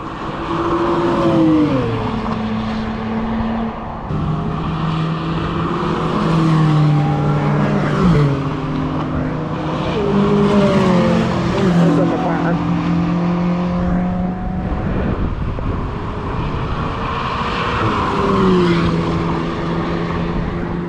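A high-revving Ariel Atom sports car engine climbs and drops through gear changes as it passes close by at Goodwood, loud and raspy, with faint voices underneath.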